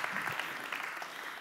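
Applause rises from a live audience of about 200 people in Amsterdam welcoming speaker Connor Leahy, a steady, close, dense patter of clapping hands filling the short moment.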